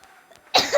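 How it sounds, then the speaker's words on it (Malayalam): A single sharp, close cough bursts out after a quiet moment while a football game is played. "So guys ചുമയാണ്."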